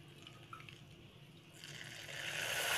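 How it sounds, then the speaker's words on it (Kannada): Water sprinkled into a hot pan of ghee with fenugreek, starting quiet, then breaking into a bright, rising sizzle and crackle over the final second. "ಸೊ ಈಗ ಒಂಚೂರು ನೀರು ಚಿಮುಕ್ಸೋಣ."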